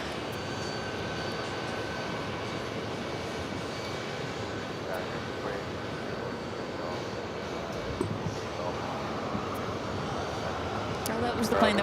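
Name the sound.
aircraft arriving at JFK airport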